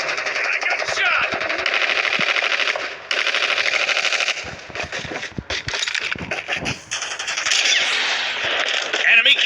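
Rapid automatic gunfire from the mobile shooter game Call of Duty Mobile, loud, dense bursts with brief gaps, mixed with game sound effects throughout.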